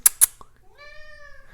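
A house cat meows once, clear and close by, just after two sharp clicks in an otherwise quiet room.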